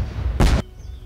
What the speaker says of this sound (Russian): Фейерверк сработал